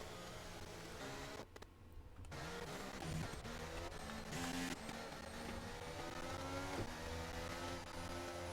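Race cars from a sim racing event, the Las Vegas round of an XLR league, droning steadily under a safety car, a continuous layered engine hum with shifting pitch and a brief dip, no talking.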